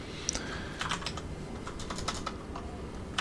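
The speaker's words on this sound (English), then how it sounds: "See if I can type in local." Typing on a computer keyboard during a Star Citizen game session: a quick, irregular run of close key clicks and taps, some slightly heavier strokes, with no talking.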